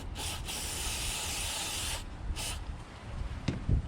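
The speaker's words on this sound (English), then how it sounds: "I'm just going to spray this on" Two or three bursts of hissing aerosol cleaner from a spray can, one long and a couple short, followed by faint handling noises.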